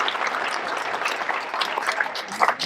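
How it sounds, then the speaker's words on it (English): An audience claps for a high school Wall of Fame inductee at an induction ceremony, a steady burst of applause with scattered louder claps near the end. "let's give him another round of applause again"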